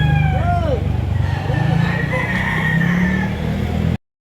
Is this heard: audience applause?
no